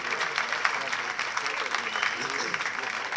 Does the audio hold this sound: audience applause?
yes